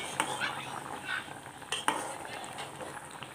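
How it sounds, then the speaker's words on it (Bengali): Pangas fish curry with roasted cumin powder stirred in a pan, soft scraping strokes over a low simmering sizzle, close and without talk. "আমি আরও কয়বার নাড়াও দিছি এইভাবে।"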